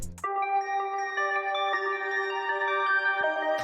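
An ambient guitar arpeggio slowed by a 100% halftime effect rings as sustained, shimmering tones that hold steady and clean with no voices.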